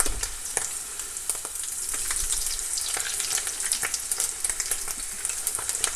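A thin low-carb tortilla frying in a pan for chicken tacos, a loud close crackling sizzle with dense popping spatters throughout.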